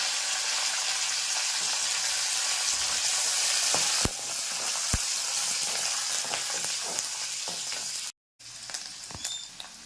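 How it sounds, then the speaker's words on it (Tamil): Garlic and curry leaves sizzle in hot oil after mustard seeds, a loud continuous fry hiss with occasional sharp crackles and pops, briefly cutting out near the end before resuming. "இப்போ பூண்டு போட்டுக்கலாம். அது கூட கருவேப்பிலையும் போட்டுக்கலாம்."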